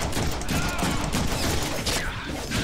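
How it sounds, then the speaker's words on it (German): Dense, continuous gunfire fills a Deadpool video game battle, rapid overlapping shots and bursts rattling loudly without pause. "Wer schießt denn da auf mich?"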